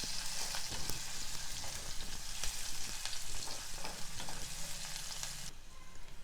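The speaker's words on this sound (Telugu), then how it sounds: "ఉల్లిపాయ కొంచెం వేగనివ్వాలి" Thinly sliced onion fries with cumin seeds in hot oil in a pan for a mint pulao, a steady close sizzle with occasional crackles and stirring scrapes, no talking.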